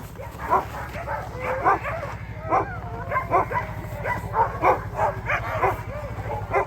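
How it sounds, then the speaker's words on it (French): Excited Alaskan husky sled dogs at a kennel in Lapland bark and yip in a rapid, overlapping chorus, several voices close and far, against a steady low rumble. "Les chiens sont excités, nous aussi."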